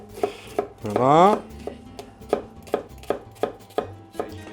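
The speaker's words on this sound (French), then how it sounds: "Donc là, on va ciseler l'oignon." A knife finely chopping an onion on a cutting board, with regular close, crisp knocks in a steady rhythm and a short spoken word partway through.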